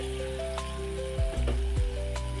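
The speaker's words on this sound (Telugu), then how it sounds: "పసుపు వేసాక బాగా కలపాలి." Turmeric and ginger-garlic paste frying with curry leaves in a pan for baby potato curry, a steady close sizzle with a few scraping stirs of a spoon against the pan.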